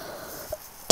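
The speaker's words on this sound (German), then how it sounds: "Boah, ich muss husten." A single sharp cough bursts out close and loud right at the very end, after near silence broken only by one small soft sound midway.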